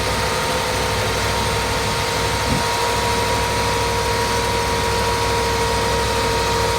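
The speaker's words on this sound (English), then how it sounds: "Let me give a little bit of RPM there." A car engine idles steadily with its air conditioning compressor running, a constant droning hum and hiss with only a slight brief bump in revs, no voices heard.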